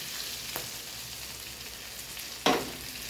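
Potatoes fry in a pan before spices go in, a low steady sizzle running throughout with two brief louder scrapes or stirs, the second near the end and stronger; no voices.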